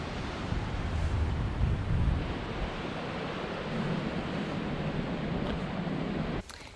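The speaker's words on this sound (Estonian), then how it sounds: "Vaikne ookean." Waves and wind on the Pacific Ocean shore in New Zealand make a steady broadband roar, with a louder surge early on and heavy wind buffeting that cuts off near the end.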